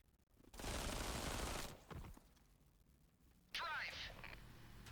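Bursts of automatic gunfire from the video game Zephon, a loud sustained volley followed by a shorter burst with a whizzing effect, set among game sounds.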